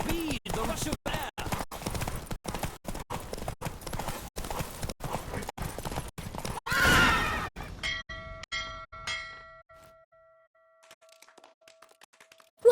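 A horse gallops hard during a race in The Witcher 3, its hooves drumming in a fast, steady rhythm up close. A short rushing swell follows before the hoofbeats fade out, leaving quiet tonal music.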